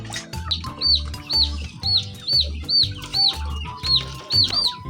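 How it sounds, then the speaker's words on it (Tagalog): A chicken makes repeated high chirping calls in a steady rhythm, about two per second, with low clucking and rustling underneath, close by. "meron ditong manok"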